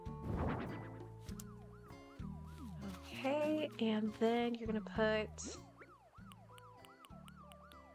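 A synthetic wailing siren from Animal Crossing: New Horizons loops repeatedly with rising and falling tones, while a person talks over it in the middle.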